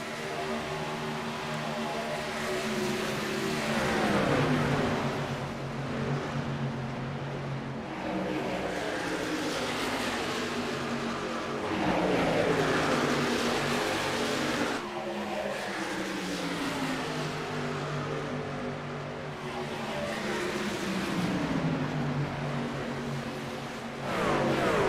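Stock-car style trucks race together in a Tuesday Night Truck Series sim racing league, several engines droning and rising and falling in pitch as the pack runs close, a continuous loud roar with no gaps.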